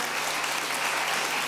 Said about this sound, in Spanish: tu sinceridad se merece un aplauso.